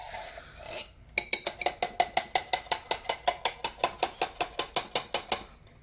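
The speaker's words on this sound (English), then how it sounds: "When I have to wash the spoon. Make sure I get everything out." A spoon scraped rapidly and rhythmically against a container, about twenty sharp, evenly spaced metallic clicks at close range, preceded by a softer rustle.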